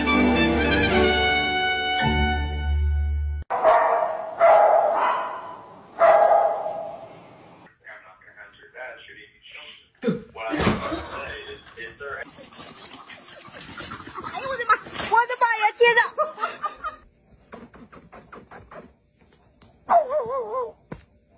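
A dog yips and whimpers in short high bursts, mixed with barks and people talking nearby.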